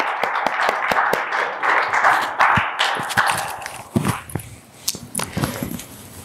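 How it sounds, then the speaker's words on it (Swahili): An audience applauds at a community leadership talk, a loud, sustained patter of many hands clapping for several seconds, fading into scattered claps toward the end. "nitaomba kwamba tujipigie makofi kwanza"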